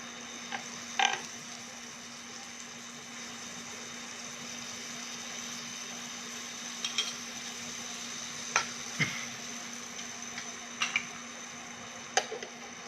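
Butter-brushed paratha cooking Punjabi style on a hot griddle, a steady low sizzle with scattered faint ticks and scrapes, heard alone without talk.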